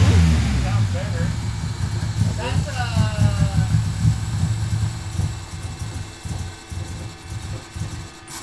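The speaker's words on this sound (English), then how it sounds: "So I think there's an injector stuck." Turbo Honda Civic hatchback with a K-swap engine idling unevenly nearby with a faint ticking from a stuck fuel injector, a low rumbling engine sound with small blips, while people talk over it.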